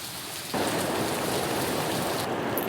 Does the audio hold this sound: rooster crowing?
no